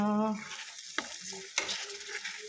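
Onion being sautéed on low heat in a pan, stirred with a couple of sharp scraping strokes over a soft sizzle, after a brief tonal hum at the very start.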